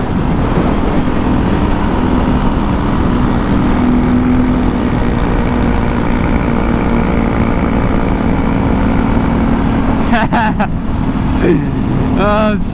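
A KTM 450 motorcycle engine revs hard as the bike builds speed for an uphill climb, a loud, steady roar that fills the whole stretch, with brief higher whines near the end.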